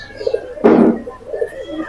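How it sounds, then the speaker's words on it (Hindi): Shahjahanpuri pigeons coo softly in low, rounded bursts, with one louder, breathier coo in the middle. "कबूतरों को देखें और एक सिलेक्शन देखें रिजवान भाई के पास शाहजहाँपुरी कबूतरों का।"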